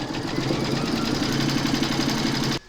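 Close, loud rapid stitching from an embroidery machine sewing a coffee placemat in its hoop, an even mechanical rhythm that cuts off sharply at the end.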